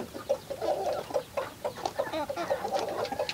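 Large chicks clucking and cheeping busily, a dense overlapping chorus of short calls from several birds close by, no talking.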